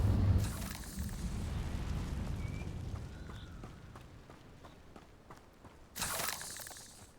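A fiery spell burst from Hogwarts Legacy opens loud with a low rumbling whoosh, fades into a crackling, slowly decaying tail, and a second sharp burst flares near the end.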